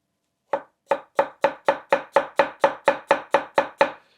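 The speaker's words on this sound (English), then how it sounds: "to cut the other way, we're going to trim off the root end first" Knife chopping an onion on a board after trimming the root end, eleven crisp evenly spaced cuts at a quick steady pace, close and clear against silence with no voices.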